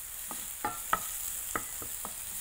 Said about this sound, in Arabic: ثوم والبصل خلاص، نقلب هنا